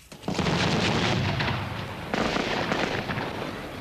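Fireworks go off in quick sharp bursts, with two loud cracks about two seconds apart. Crackling and rumbling trail after each burst, and the sound carries a slightly distant outdoor quality.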